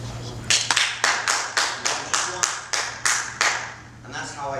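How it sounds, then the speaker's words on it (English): An audience at a talk on crowdfunding claps on request in a steady rhythm, about a dozen sharp, loud synchronized claps spaced evenly, ending with a brief trailing voice. "if you could just clap for me as hard as you can."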